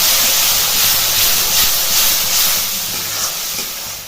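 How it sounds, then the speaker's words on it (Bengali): Tomato, green chilli and coriander paste frying in hot oil while cooking a filling for bean and tomato chops, giving a steady loud hiss and sizzle throughout with no talking. "এরপর দিয়ে দিতে হবে ওই টমেটো, কাঁচা লঙ্কা এবং ধনেপাতার পেস্ট"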